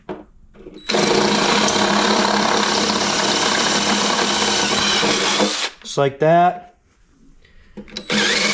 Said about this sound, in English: bottom one I'm going to have to drill out.